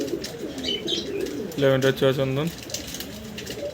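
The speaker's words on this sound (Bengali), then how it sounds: "ভাই এই কার্টুনে করে পাঠিয়ে দিচ্ছি আপনার 3 জোড়া কবুতর" Pet pigeons cooing near a shipping carton: a short, low, warbling coo series in the middle, with a person talking before and after.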